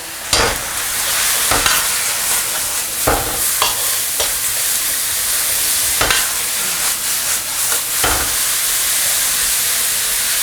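Oyster mushrooms seasoned with sugar, salt, light soy sauce and oyster sauce are stir-fried in a pan, giving a loud, steady sizzle and hiss punctuated by regular scraping and clacking strokes of the spatula, with no voices.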